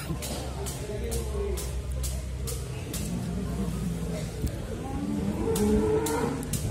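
Simmental and other cattle at a livestock market during a cattle contest, lowing repeatedly amid a busy crowd, with voices and a low vehicle rumble in the background.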